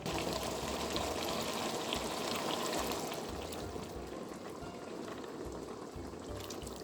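Broth poured into a simmering risotto, a steady liquid rush and sizzle that runs continuously at moderate loudness, easing slightly toward the end.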